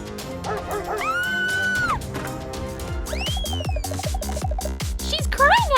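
A little puppy whimpers in drawn-out rising cries, then lets out a run of short yips and barks, close and loud over music and background voices.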